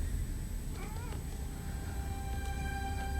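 A cat meows in a scene from the TV show Legion, with a couple of short, rising mewing calls early on over a low background hum and faint tones.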